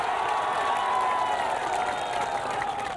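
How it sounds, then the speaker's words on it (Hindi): An audience at an outdoor televised political debate on a football ground applauds to welcome a guest, a dense, steady wash of clapping and crowd noise that holds evenly throughout at a fair distance. "तालियों के साथ स्वागत कीजिए इनका"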